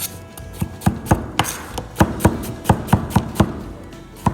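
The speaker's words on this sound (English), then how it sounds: "And just take this guy and cut him into little fries" A knife chops a turnip into thin fries on a cutting board, a run of sharp, close, fairly regular knife strikes coming about twice a second with no talk.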